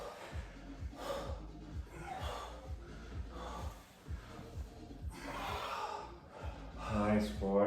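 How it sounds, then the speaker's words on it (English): Heavy, rhythmic breathing and sharp exhales repeat roughly once a second during a home workout of snatches, pushups and front squats, loud and close, with panting gasps building toward the end. "There's a lot of heavy breathing going on here."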